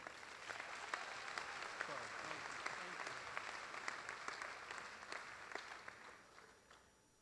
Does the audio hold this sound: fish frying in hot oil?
no